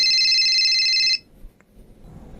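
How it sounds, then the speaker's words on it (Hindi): A loud electronic phone ring sounds steadily for about a second, then cuts off, leaving quiet room noise with a faint click. "ये फोन किसका आ गया?"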